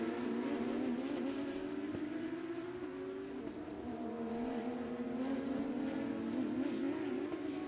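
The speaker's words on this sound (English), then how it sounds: "The Lambo closing up under braking going into Mission Foods turn 7." Race cars, a Lamborghini among them, brake into turn 7 at Sebring during a SpeedTour race, their engines loud and close with a steady droning pitch that dips and then climbs again, running the whole time with no talk over it.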